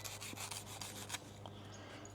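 A North Edge Tools Ghost XL knife saws back and forth through thick rope in short, quiet rasping strokes that come close together for about two seconds.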